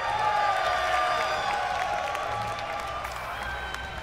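A crowd at a World Championship esports event cheering and applauding, a steady wash of clapping and shouts heard from a distance under a broadcast setting, holding at an even level throughout.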